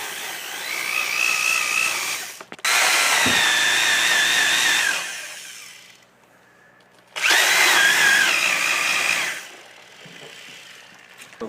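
A power drill bores holes in wood for planting salad greens, two long loud whining bursts separated by a quiet pause, alone without talk.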